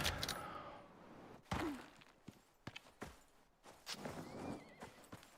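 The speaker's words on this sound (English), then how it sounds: "I thought I heard a horse out here." In the video game Icarus, a horse whinnies and snorts among clip-clopping hoof steps and thumps, all close by, with a brief rising whistle-like tone.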